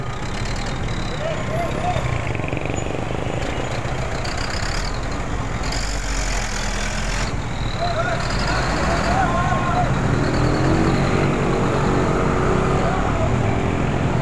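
Busy town-street traffic jam of cars and trucks, with engines idling and rumbling close by in a steady, dense wash of noise, occasional horn-like tones and voices mixed in.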